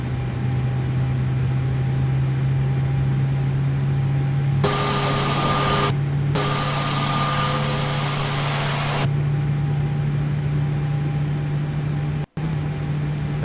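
IniBuilds A320neo jet engines spooling up in Microsoft Flight Simulator: a steady low drone under a whining tone that rises in pitch for a few seconds, cuts out briefly, returns, then settles back to the drone.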